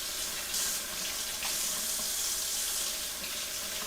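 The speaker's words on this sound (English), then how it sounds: "we're going to warm it up just under some warm water in the sink" Warm tap water runs steadily from a faucet into a glass bowl in a kitchen sink, a continuous close hiss and splash with slight shifts in the flow and no voices.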